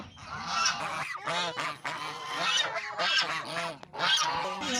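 Geese honk repeatedly and loudly on a Thai farm, overlapping calls in a noisy, continuous flock chorus, close by.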